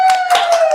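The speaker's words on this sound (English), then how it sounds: "Hey, everybody, clap on your way out." Audience in a live venue clapping as they head out, a dense patter of hand claps sustained throughout, moderately loud, with a steady tone running underneath.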